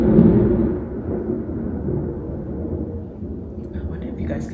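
Thunder rolls outside in a low, continuous rumble that slowly fades over a few seconds, heard from indoors.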